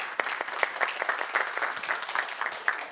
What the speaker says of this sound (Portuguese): E uma salva de palmas para todos os participantes da dinâmica de grupo.